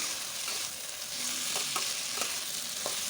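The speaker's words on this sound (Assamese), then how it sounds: "এতিয়া এইখিনি ভালদৰে ফ্ৰাই কৰি ল'ম মাংসখিনি, যাতে ধুনীয়াকৈ ফ্ৰাই হৈ যায়" Chicken meat fries and is stirred in a pan for chicken pulao, giving a steady hiss of sizzling oil with a few soft scrapes of the spoon, close by and with no talking.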